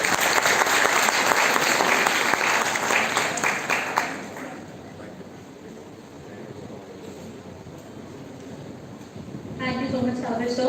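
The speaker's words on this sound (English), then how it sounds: "An applause, please." Audience applause at a college workshop on crime scene and forensic investigation in Delhi, dense clapping that fades after about four seconds to a quieter room, then swells again near the end.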